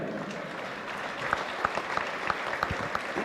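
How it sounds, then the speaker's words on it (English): Applause for parents in a high school gym at a girls basketball game, a steady crowd clapping at moderate distance, with sharper individual claps and faint squeaks here and there. "And a big round of applause for all of our parents."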